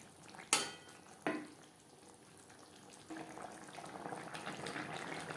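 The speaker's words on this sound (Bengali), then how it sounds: "শিমের সাথে মাছ বেশ ভালো করে মিক্সড করে দেব। শিমের সাথে মাছ আরও 3-4 মিনিট রান্না করব।" Rohu fish stirred together with broad beans in a cooking pan: two sharp utensil clanks against the pot, then a soft, steady sizzle building under light stirring, close and fairly quiet.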